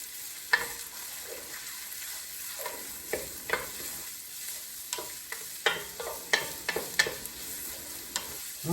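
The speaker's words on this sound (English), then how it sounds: "we've got them sauteing really, really well" Sweet onions sauteing in a pan for slow-cooked chili, a steady close sizzle broken by repeated sharp scraping stirs, irregular through the clip with no talking.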